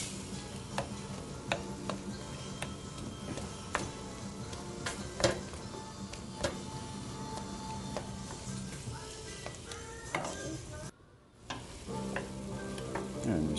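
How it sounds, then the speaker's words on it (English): Five pounds of ground beef cooking down in a pan for meat sauce, a steady close sizzle with frequent clicks and scrapes as a utensil breaks up the meat, briefly dropping out near the end before resuming. "we're just continuing to cook it down. And we're continuing to break up the ground beef"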